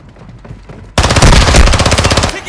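Automatic machine gun fire in a video game battle royale match bursts in suddenly after quiet, a loud, dense rapid rattle of shots that keeps going for over a second before cutting off.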